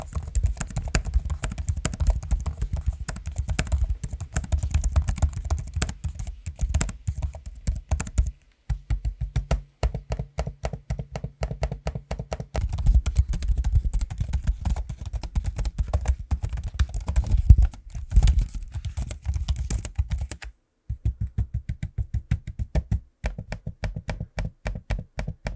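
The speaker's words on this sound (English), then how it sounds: "give you a sample of the keyboard and trackpad in use" Brisk typing and clicking on the keyboard and trackpad of a Lenovo Legion Pro laptop, a dense stream of close, sharp key taps with a couple of short pauses, heard alone without talk.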